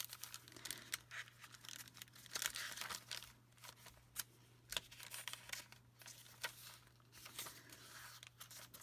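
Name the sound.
crinkly bag being handled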